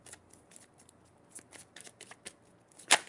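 Tarot cards being shuffled by hand in a quiet room, a string of soft papery riffles and flicks ending in one louder, sharper burst of cards snapping together.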